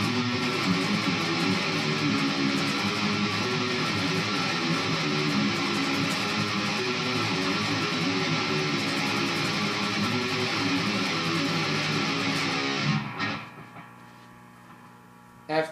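Electric guitar playing a tremolo-picked verse riff, a dense, loud, sustained distorted wall of rapid picking that runs unbroken for about thirteen seconds before cutting off abruptly.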